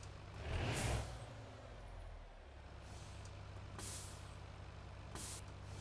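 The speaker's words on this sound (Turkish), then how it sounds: "Bu fren sesimiz." Air-brake hisses from a Ford F-Max truck in Euro Truck Simulator 2: a strong hissing release near the start, then two shorter, sharper bursts of air a few seconds apart over a steady low engine idle.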